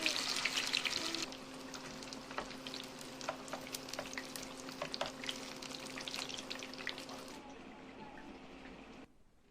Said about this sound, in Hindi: अब हम इसे फ्राई करेंगे इन्हें। फिर मैंने ऑयल चढ़ा दिया है।